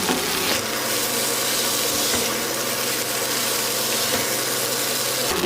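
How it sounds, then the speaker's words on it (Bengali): Boiled vermicelli being stirred into spice masala in a hot pan for a spicy semai dish, with a steady frying sizzle and scraping stir sounds running evenly throughout, no talking. "এবার ওই মশলার সাথে ভালোভাবে মিক্স করে নেব সিমাইটাকে।"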